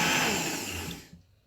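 A Philips kitchen blender whirs loudly and steadily, then winds down and cuts off near the end, heard alone with no voices.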